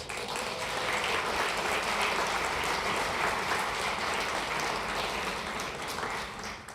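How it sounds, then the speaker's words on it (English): A school district board gathering claps for staff members marking 25 to 35 years of service, a sustained, moderately quiet wash of applause from the room that swells slightly and tapers near the end. "Absolutely, round of applause."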